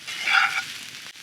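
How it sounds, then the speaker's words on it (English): Meat frying and being stirred in a cast iron skillet over an open fire, a brief close burst of hissing sizzle that swells and then fades slightly, with no voices. "Just keep stirring it around so that it doesn't burn in any one spot"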